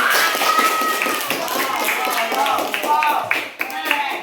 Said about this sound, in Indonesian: Ya, tepuk tangan itu lagi